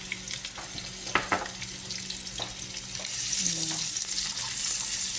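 Eggplant and lots of onions hit a hot wok for a spicy eggplant dish, with a few clatters early on followed by a loud, steady sizzle that rises sharply partway through and holds to the end.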